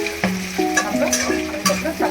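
Onions and curry leaves frying in a hot pan, a steady close sizzle broken by several scraping stirs of a spoon against the metal, with no talk.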